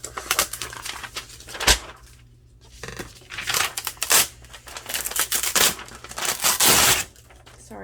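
An old mailed envelope is ripped into strips by hand, several loud, close tearing bursts of crackling paper separated by brief pauses, no talk over it.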